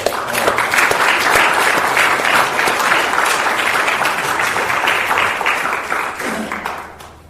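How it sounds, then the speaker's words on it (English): A room full of people at a secular AA celebration in Kansas City applauds steadily with dense clapping for several seconds before it tapers off at the end. "And certainly John and Doris have earned a hearty round of applause for us"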